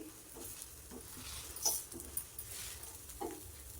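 Rava uttapam batter cooking in oil on a pan over medium gas, giving a faint, steady low sizzle with a few soft clinks and scrapes.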